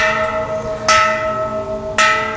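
A large bell rings at Kek Lok Si temple: two clear metallic strikes about a second apart, each followed by a long, sustained humming resonance that keeps ringing between the hits.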